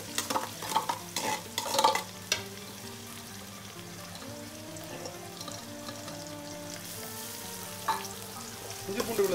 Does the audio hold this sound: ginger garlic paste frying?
yes